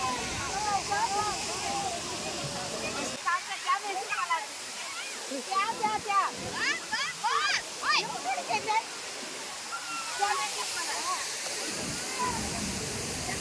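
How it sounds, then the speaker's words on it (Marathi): Rushing water from Dudhsagar waterfall in Goa pours steadily in the distance while a crowd of people chatters and calls out over it. "दूधसागर वॉटरफॉल का म्हणतात ते कळलं आत्ता एकदम दुधासारखं पाणी आहे"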